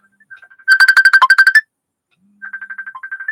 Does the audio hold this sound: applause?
no